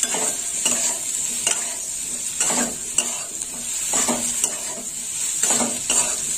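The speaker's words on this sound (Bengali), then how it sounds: "হলুদটা একটু ভাজা হবে। এটা একটু নেড়ে চেড়ে দেবো" Turmeric powder fries in hot oil in a pan alongside kundri and potato, a steady sizzle broken by repeated scraping strokes of a spatula against the metal, several rhythmic stirring passes close up, with no voice.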